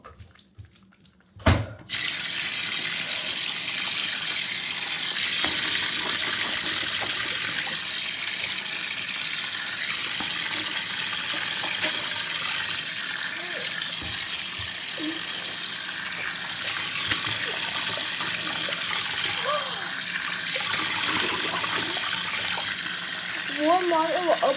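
Steady broadband rush of water running from a sink tap, continuous and close, starting after a brief clatter and flowing without pause to the end.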